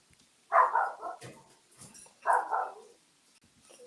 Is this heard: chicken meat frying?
no